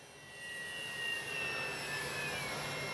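An X-Fly Spitfire RC jet plane flies at about half throttle, giving a steady, continuous turbine whine with a high tone, moderately loud and unbroken for the whole stretch, with no talk over it.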